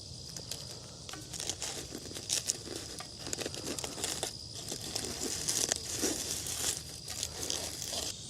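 Charred, carbonized watermelon pulled apart by hand, giving a steady run of dry crackling, crinkling and crunching snaps at close range, with no voices over it.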